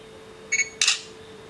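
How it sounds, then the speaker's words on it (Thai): Camera shutter sound of a Sony Ericsson Xperia Active phone, triggered by touch: a short electronic beep followed by a brighter shutter click, alone against quiet background hum. "สามารถจะแตะแล้วก็ถ่ายภาพได้เลย"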